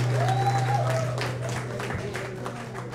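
An audience at a live African talent show claps and cheers for a DJ, a dense, steady wash of applause under a sustained tone and a voice talking over it.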